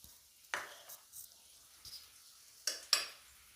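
Onions cooking with cumin and asafoetida in a pan, heard as a few quiet scrapes and clinks of a spoon stirring at close range over a faint background, with no talk.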